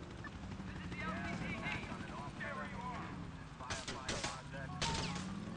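Gunfire in the video game GTA IV comes as a few faint, sharp cracks near the end, mostly buried under continuous speech and game background noise.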